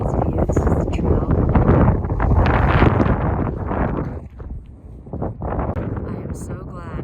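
Cold wind buffeting a microphone at Dante's View, an overlook in Death Valley, loud rumbling gusts that swell and ease, dropping briefly near the end before picking up again.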